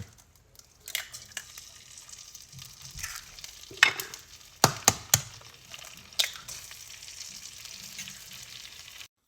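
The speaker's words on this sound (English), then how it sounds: "Now take your eggs and crack them into the pan." Eggs crackle and sizzle in a hot pan, with a few sharp cracks and pops rising over a steady frying hiss, close and fairly loud, no talking.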